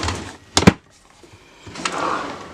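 A drawer slides open with a short rattling scrape and clunk, followed by a softer sliding sound a moment later, close and clear in a quiet room.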